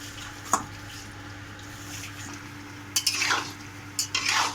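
Gur kathi sweets being stirred and fried in a pan at home, with a few scraping stir strokes and soft sizzling, closer and louder near the end, no talking.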